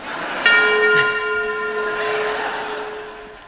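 Big Ben rings out with a single loud, resonant strike, and its tone rings on and slowly decays over a few seconds.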